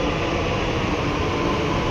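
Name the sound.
metro train arriving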